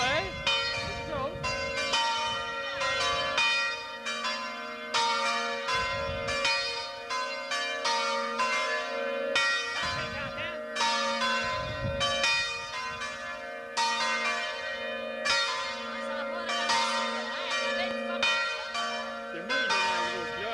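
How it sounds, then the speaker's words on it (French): A big church bell peals continuously at a baptism, its loud, sustained ringing tones layered and overlapping throughout, with faint voices talking underneath. "C'est moi qui donne la grosse cloche."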